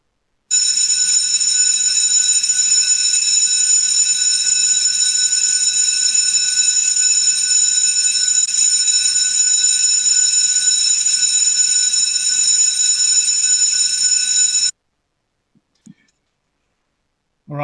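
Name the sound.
bells ringing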